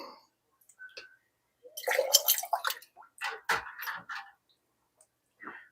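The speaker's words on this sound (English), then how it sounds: "I just take my jar grabber right there, submerge this in" A canning jar lowered with a jar grabber into a water-filled canner, giving a few bursts of splashing and bubbling gurgles with quiet gaps between them.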